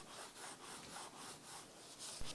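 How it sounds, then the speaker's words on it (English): Repeated rhythmic strokes of sanding across glued 3D-printed TPU joints, a steady back-and-forth scraping of moderate loudness with no voices and a brief bump near the end. "I could sand down the joints with a combination of power and hand sanding"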